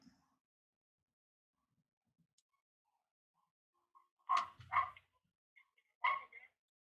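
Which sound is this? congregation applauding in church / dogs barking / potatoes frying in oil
dogs barking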